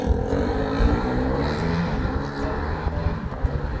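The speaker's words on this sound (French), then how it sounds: "Il faut qu'il accélère à fond et il passe la vitesse à la volée." A BMW turbo car accelerating hard and shifting gears on the fly, a loud close engine roar with rising revs and brief breaks between gears, with no talking.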